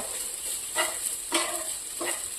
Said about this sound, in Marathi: खोबरं घालून हे थोडं मिक्स करून घ्यायचं.